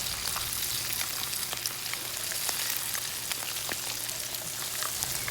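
Cooked bagoong, a shrimp paste, fries in hot oil with a dense, even sizzle and hiss, dotted with faint little pops, steady and close for the whole stretch.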